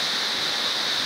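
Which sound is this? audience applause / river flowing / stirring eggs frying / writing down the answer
river flowing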